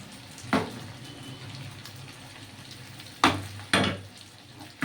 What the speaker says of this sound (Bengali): আমি ঝাঁকিয়ে ভাজবো এবার।